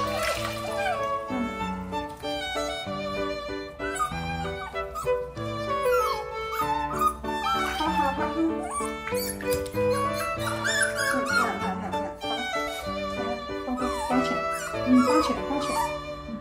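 A rescued puppy whimpers and yelps in pain while blood-sucking ticks are picked off its body after a bath, giving repeated high, wavering cries close by and continuing throughout, with a person speaking softly underneath.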